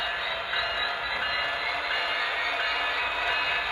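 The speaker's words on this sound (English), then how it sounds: "Now this locomotive does have the momentum feature. So it'll take a little bit to get moving here." Model CP SD30C-ECO locomotive by Bowser slowly easing into motion on its track, a steady continuous running hum and rumble with no distinct rhythm, close and moderately loud throughout.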